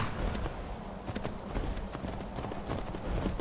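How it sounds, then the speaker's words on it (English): A horse clip-clops steadily while being ridden in modded Skyrim Special Edition, the hoofbeats moderately close and fairly even over a broad background hiss, with no talking. "When there's an option to ride a horse in this mod, I do take it because it usually works pretty well."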